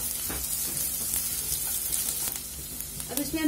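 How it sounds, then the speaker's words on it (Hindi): Garlic and ginger fry in hot oil in a pan, giving a steady close sizzle with occasional stirring scrapes throughout, no voices. "दो मिनट तक हमें अदरक लहसुन को फ्राई करना है।"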